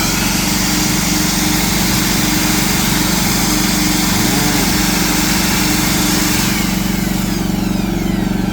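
A PhilKing 4200 generator engine runs at a steady, loud, continuous drone, close by and unbroken throughout.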